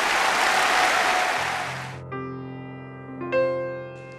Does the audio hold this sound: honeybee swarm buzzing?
no